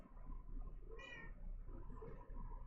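Paprika the cat lets out one short, soft meow partway through, quiet against a low steady room hum.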